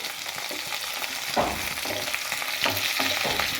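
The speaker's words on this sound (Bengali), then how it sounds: "সব 5 মিনিটের সবজি সামান্য করে একটু ভেজে নেবো।" Mixed vegetables and potatoes fry in a pan, giving a steady close sizzle with several scraping stir strokes, no talk.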